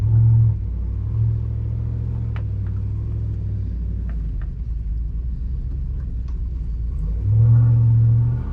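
A hot rod truck with a 5.3 V8 swap turns around in a driveway, its engine giving a steady, deep rumble throughout that swells louder at the start and again near the end.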